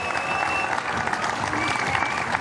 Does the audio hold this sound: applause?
yes